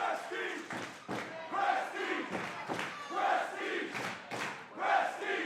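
A wrestling show crowd at Roseland cheers and chants in loud, rhythmic surges, swelling and dipping in repeated waves across the arena with no voices standing out.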